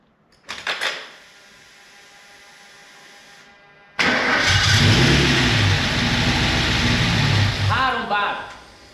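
An old Mercedes engine cranks briefly, then fires and runs loud with sustained revving, near, while a voice speaks over the start.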